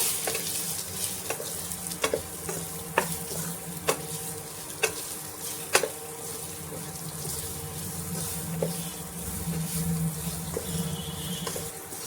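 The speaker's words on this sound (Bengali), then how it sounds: "এবারে আলুগুলো ভালো করে ভেজে নেব।" Potatoes frying in a pan with salt, turmeric and chili powder over low to medium heat, a continuous sizzle broken by regular sharp clicks and scrapes of a spatula stirring, close and clear.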